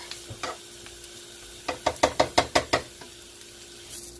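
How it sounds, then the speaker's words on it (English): Onions and peppers cooking in a covered pan, a quiet sizzle under a quick run of rhythmic knocks and clatters near the middle, close by. "I'm going to cover it up so that the onions and peppers can start sweating out and getting soft."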